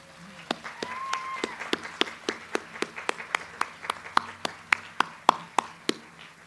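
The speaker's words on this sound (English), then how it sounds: "Would we please give a round of applause for all those who've led this magnificent effort?" A college commencement crowd gives a round of applause, heard as steady, rhythmic clapping at a moderate distance, with no individual talk audible.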